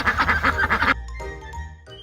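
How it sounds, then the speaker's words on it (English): A toy duck from an animal building-block set gives a burst of quacks, loud and close, then drops into quieter electronic tones and a faint tail of sound. "Duck."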